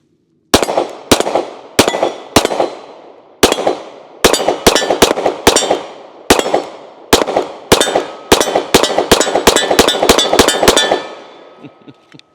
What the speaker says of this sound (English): Let's go ahead and put a few more rounds down it.